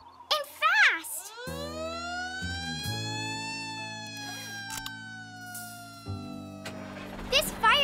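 Cartoon fire truck siren wailing in long rising and falling sweeps, loud and close, with a low engine-like drone underneath and character voices at the start and end.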